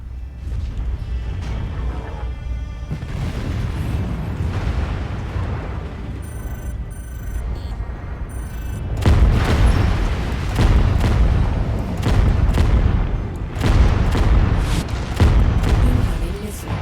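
A battle mech blowing up in MechWarrior 5: Mercenaries, heavy booming rumbles that swell loud and continue in sustained bursts, with synthetic game voice cues and combat noise.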